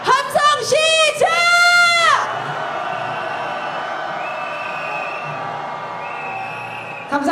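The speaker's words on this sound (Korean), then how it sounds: "함성 시작." Protest rally crowd in Yeouido calling for a president's impeachment, opening with a loud chanting and whooping roar that lasts about two seconds and then settles into a steady broad crowd murmur with faint whistles, close and sustained.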